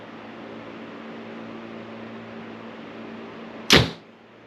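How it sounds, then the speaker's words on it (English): A 434 grain arrow leaves a Hoyt bow tuned at 70-80 pounds and tears through paper, one sharp, loud snap and whoosh after a few seconds of steady fan-like hum, then a short fading tail. "434 grain arrow through paper."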